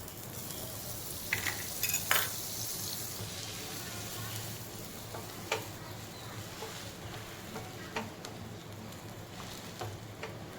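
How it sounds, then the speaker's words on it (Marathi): Slices of bread for cheese garlic bread toast in a pan, giving a steady low sizzle with occasional soft scrapes and clinks of a utensil against the pan. "याला थोडं गोल्डन होतपर्यंत आपण क्रिस्पी होतपर्यंत शेकून घेऊया"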